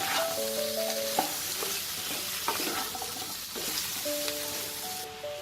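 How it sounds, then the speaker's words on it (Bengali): Mixed vegetable curry of Bengali panchmishali style stir-fried with spices and salt in a pan, a steady sizzle with scraping stirs and utensil clinks, close and moderately loud, no talking. "মশলাটাকে এটার সাথে মিশিয়ে তরকারিটাকে একটু ভাজা ভাজা করব"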